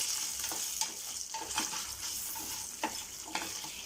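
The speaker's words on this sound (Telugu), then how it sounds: "ఒక 3 గ్రీన్ చిల్లీస్ వేసుకుంటున్నాను స్పైసీనెస్ కోసం. ఇది కొంచెం సేపు ఫ్రై అవ్వాలి." Green chillies, three of them, frying in a pan during a mutton preparation, giving a steady close sizzle with occasional stirring scrapes and no talk.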